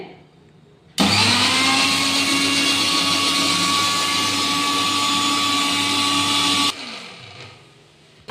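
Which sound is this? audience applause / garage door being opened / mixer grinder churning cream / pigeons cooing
mixer grinder churning cream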